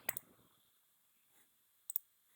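Computer mouse clicks, two quick ones at the start and another pair near the end, crisp and close against near silence.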